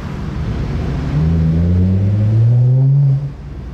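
A deep, resonant Nissan GT-R engine with aftermarket exhaust rumbles and revs in Paris streets, rising in pitch then cutting off abruptly; loud and close, no voices.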